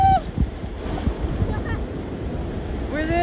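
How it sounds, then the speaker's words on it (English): Ocean waves washing onto a Boracay beach in the Philippines, a continuous surf rush with gusty wind buffeting the microphone and brief voices and shouts over it. "Guys, we're here we're at the beach!"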